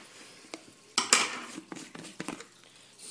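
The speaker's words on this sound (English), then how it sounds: "Just get a spoonful of it." A spoon scrapes and clinks against a container while scooping homemade guppy fry food, giving a few close, sharp taps and scrapes spread out over a quiet background.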